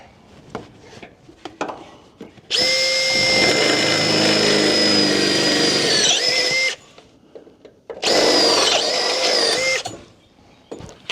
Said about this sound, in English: we're just going to try and drill this hole out a little bit